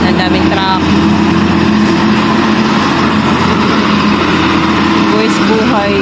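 Trucks on a road, a loud, constant engine drone that stays steady throughout, heard near with heavy rumbling low end.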